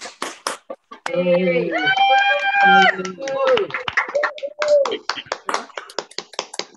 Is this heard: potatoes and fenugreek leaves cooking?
no